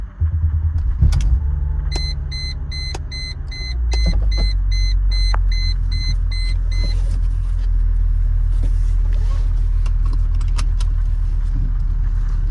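A 2003 Mercedes C320 coupe pulls off on a short test drive, a steady low engine and road rumble building after a few seconds, with a string of electronic chime beeps and a clunk or two near the start.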